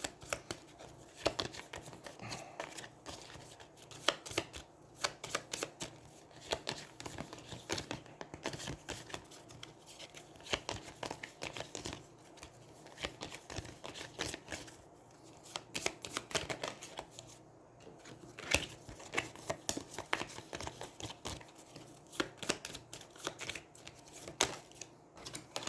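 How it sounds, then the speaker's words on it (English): Cards being riffled and shuffled by hand for a solo Aeons End board game, a long run of soft rapid flutters and snaps repeating close to the microphone, with no talk. "I'm trying to mix up my shuffling"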